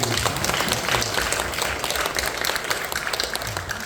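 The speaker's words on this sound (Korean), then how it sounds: "진심으로 박수해야 됩니다." A church congregation applauds during a worship service, a dense continuous wash of clapping from many hands that holds steady and close throughout.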